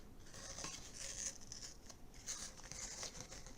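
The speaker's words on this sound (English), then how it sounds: "And you can take your tape off." Tape being peeled off a freshly cut cardboard body tube gives repeated rasping, tearing strips of sound, close and fairly quiet, with no talk.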